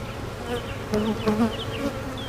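Honeybees buzz steadily at an open hive packed with nectar, a dense close drone with wavering pitches as individual bees pass near, continuous throughout with no talk.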